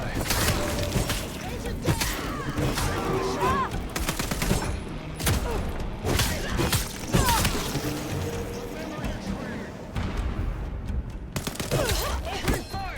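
A Vampire: The Masquerade - Bloodlines 2 firefight: loud, dense volleys of gunshots and impacts crack steadily throughout, with voices speaking in between.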